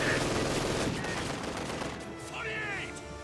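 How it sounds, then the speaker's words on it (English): Gunfire from an infantry squad hitting a machine-gun team in a real-time strategy war game: dense, fast bursts of shots in the opening second, thinning into scattered distant pops and battlefield rumble. "Now they're shooting this MG team in the back of the head."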